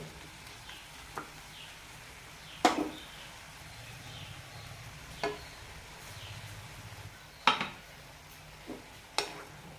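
Ground coconut paste being stirred into pineapple pulissery in a cooking pot, with soft intermittent scrapes and clinks of a spoon against the pot at a slow, irregular pace over a quiet background.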